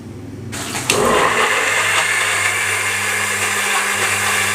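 Electric kitchen grinder blending tomato and ginger into a fine paste, switching on abruptly to a loud steady whirring roar that continues alone, close up.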